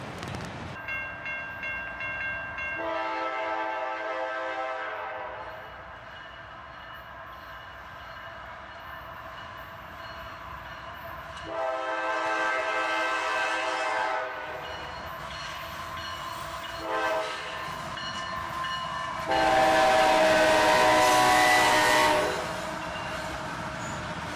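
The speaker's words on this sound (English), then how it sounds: "That same day, we'd catch this slow-moving, southbound autorack train." A slow-moving southbound autorack freight train rolls past with a continuous rumble, its horn sounding in several long blasts, the last one loudest, with no voices.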